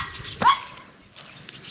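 A dog lets out a single sharp, close bark, followed by quiet background noise.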